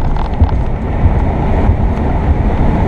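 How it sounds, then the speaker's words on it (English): Wind buffets the microphone in a loud, continuous low rumble with a few soft thumps while driving, and no one speaks. "And it's windy"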